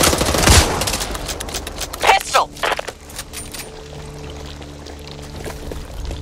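Rapid bursts of gunfire from the video game Back 4 Blood, a loud opening volley followed by sharper clustered shots, then fading into ambient game sound with character voices calling out.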